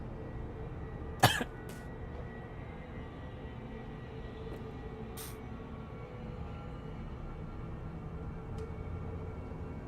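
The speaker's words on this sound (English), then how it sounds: "I am going to maybe start coughing more because my throat feels awful" One short, sharp cough with a bit of throat clearing from a person with a sore throat, followed by a fainter second cough, over a steady low background hum from a video game.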